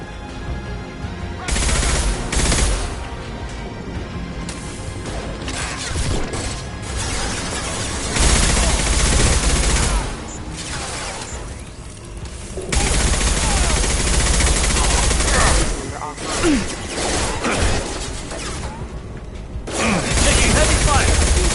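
Loud bursts of automatic weapon fire from the sci-fi shooter Mass Effect 2 come in several sustained stretches separated by brief lulls, mixed with mechanical clanks and impacts.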